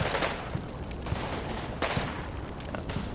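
Gunfire in the Combat Mission: Red Thunder video game: scattered shots and short bursts crackle at a distance over a constant noisy battlefield wash.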